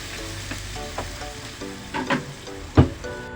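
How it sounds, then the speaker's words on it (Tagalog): Second-press coconut milk is poured into laing frying in a pan, giving a close, continuous sizzle broken by several stirring scrapes and a sharper splash near the end, with no talking. "Lagay na natin yung ating pangalawang piga na gata mga boss"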